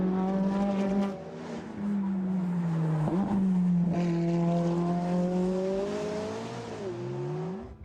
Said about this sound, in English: this exhaust will be on the 570S going up the hill, making an awesome sound